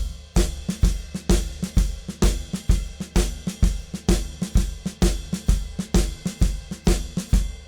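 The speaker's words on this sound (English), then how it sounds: "I'm playing a swing ride cymbal pattern with my right hand" Drum kit playing a shuffle, with the left hand on the snare and the right hand riding a swing pattern on the ride cymbal. The groove is steady and accented, with a bass drum pulse, and plays on its own for several bars.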